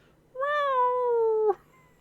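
A single clear cat meow in a video game, drawn out for about a second with a slight falling pitch, close and fairly loud against a quiet background.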